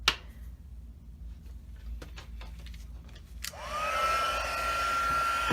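A heat tool blows steadily while melting embossing powder on a tea-bag box craft, starting with a faint fan hiss and then rising to a louder, even whir with a rising tonal whine. No talk is heard.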